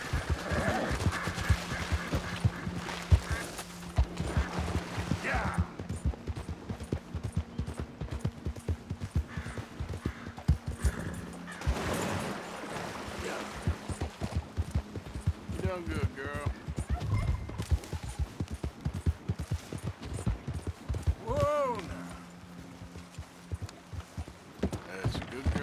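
Horse hooves clip-clopping in a fast, uneven rhythm at close range, with occasional neighs and whinnies, while people talk over them throughout.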